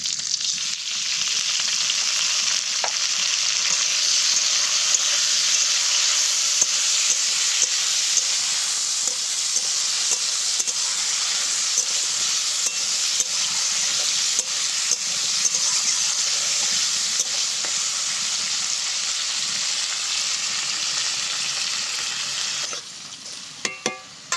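Chopped onion and tomato fry in a pan, giving a loud, unbroken sizzle and crackle with faint occasional clinks, sustained close-up for a long stretch before briefly dropping out at the end.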